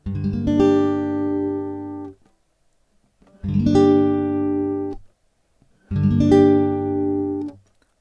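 Three strummed barre chords on guitar ring out one after another, each sustaining for about two seconds before being damped, with brief silences between them.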